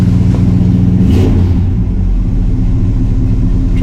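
The engine of a Pontiac LeMans roars loudly up close, with a brief rev that falls back into a steady, deep, rumbling idle.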